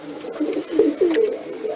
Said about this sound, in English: My pigeon's kind of right there in my face.